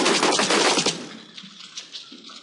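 Rapid bursts of gunfire in the video game Silent Storm, a fast rattling volley that fades into scattered fainter shots and clatter.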